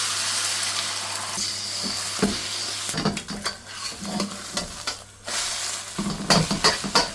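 Eggs scrambled in an oiled hot pan for seafood chow mein, a close sizzle with brisk stirring and spatula scrapes, the sizzle swelling in bursts and easing briefly between strokes.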